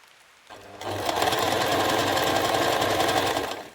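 A sewing machine stitches the sleeve hem of a stretchy T-shirt, starting after a brief pause and running as a loud, steady rapid whir for about three seconds before stopping, close up with no voices.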